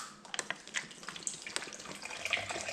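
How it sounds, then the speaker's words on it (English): Purified bottled water being poured into blended ginger, heard as a close, light trickle and splash with small irregular drips and plops. "adding in some more water again to it. Some more purified bottled water."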